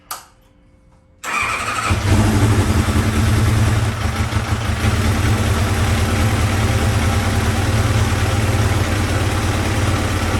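A motorcycle with a vacuum leak cranks and fires after a second of near silence, then settles into a loud, steady, rumbling idle that continues close by for the rest of the clip.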